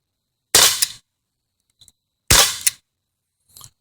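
Two sharp CO2 airgun shots strike an old CD-ROM drive, each a loud close crack with a quick rattle, followed a second later by a faint small tick, with silence between.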